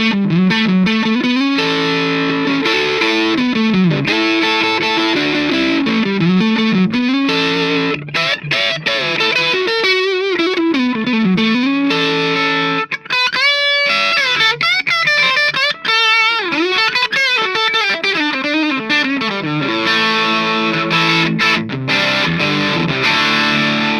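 Electric guitar played through an IronHorse 40W tube amp in high-gain solo mode, a loud, sustained distorted lead with singing held notes and fast runs, steady and continuous without pauses.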